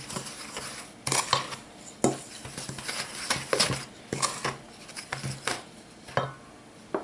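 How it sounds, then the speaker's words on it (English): A utensil stirs flour, baking powder and sugar in a bowl with soft, rhythmic scraping and tapping strokes against the sides, close and fairly steady, with no talking. "Go ahead and give that a mix."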